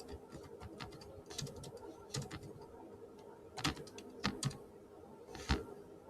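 Someone types on a computer keyboard in short, irregular bursts of clicks, with quiet stretches between them, while pigeons coo faintly in the background.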